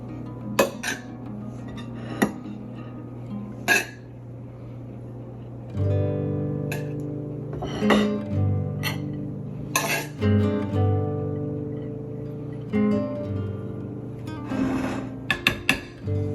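A serving spoon scrapes and clinks against dishes while rice is scooped onto a plate, with sharp metallic taps and rattles spaced irregularly among quieter stretches, close and fairly loud, no talking.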